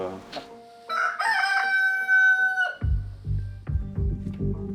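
A neighbour's rooster crows loud and close, one drawn-out cock-a-doodle-doo followed by several short clucks, with a faint voice briefly in the background.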